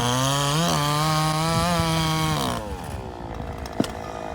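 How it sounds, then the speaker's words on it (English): A chainsaw cutting down trees in storm damage after a tornado revs high and steady, then its engine note drops and fades to idle, leaving outdoor background noise with a sharp knock near the end. "He's cutting down trees and dropping them"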